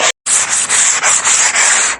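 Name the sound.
wiping a wooden mirror frame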